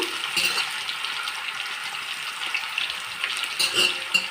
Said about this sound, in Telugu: దీంట్లోనేమో సన్నగా తరిగిన తోటకూర వేస్తున్నాను